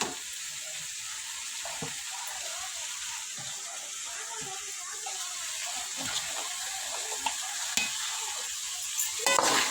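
Masala being sautéed and stirred in a frying pan hisses steadily, with soft scraping and clinking of the spoon building toward the end and no speech.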